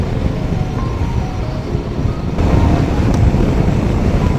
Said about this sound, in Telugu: విండ్ బ్లాస్ట్ గట్టిగా ఉంది అబ్బా ఈరోజు.